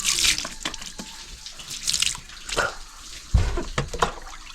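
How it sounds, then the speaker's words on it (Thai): Tap water runs at a sink while someone washes their face, giving soft, irregular splashes and trickles at low volume, with occasional louder splashes of water. "กำลังล้างหน้าแล้ว"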